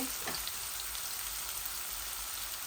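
Red onion frying in a pan with potatoes, a steady soft sizzle that stays faint and even with no talking.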